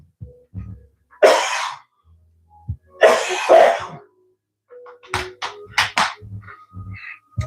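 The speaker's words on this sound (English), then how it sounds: "Sorry, I got a cough again." A person coughs in a quiet indoor room, two harsh loud coughing fits about two seconds apart, followed by several shorter throat-clearing bursts and small taps.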